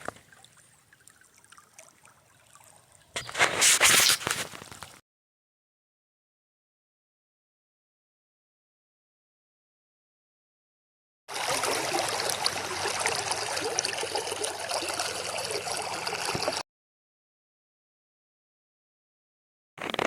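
Fast-flowing river water at a conservation area near Rolla, Missouri roars in two separate stretches broken by long silent gaps, loud and close, with no voices.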